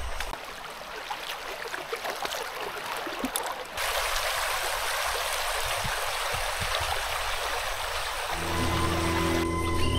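A clear forest stream in deep jungle at Alikadam, Bandarban, flowing continuously with a steady bright rush of water that grows fuller partway through, alone without talk.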